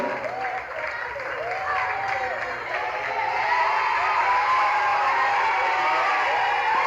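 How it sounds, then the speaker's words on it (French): Applause and cheering from a crowd at the Bellevue TV Award 2025 ceremony as an artist, Body Amiral, comes up to collect the male revelation of the year prize. The clapping is loud and steady, with whoops and voices mixed in throughout. "Un tonnerre d'applaudissements pour l'artiste qui va s'approcher et récupérer son prix"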